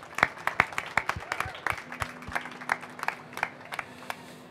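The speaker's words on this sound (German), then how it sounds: "Nochmal einen Applaus bitte für diesen wunderschönen Vortrag." Sparse, scattered applause from a talk audience at a music trade fair event, a handful of individual claps standing out at an uneven rhythm, moderately near and fairly quiet.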